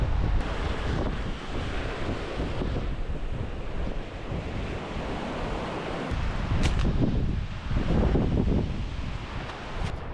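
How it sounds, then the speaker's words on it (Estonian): Strong wind roars across an open Baltic coastline at Harilaid, buffeting the microphone steadily while surf rolls and crashes nearby, loud and unbroken with no one speaking. "Täna on ka päris tuuline."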